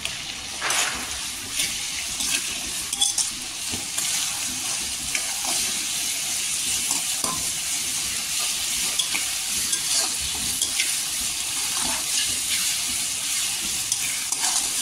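Tomatoes with salt fry in a pan, giving a steady close sizzle throughout, broken by frequent scraping and clinking stirs.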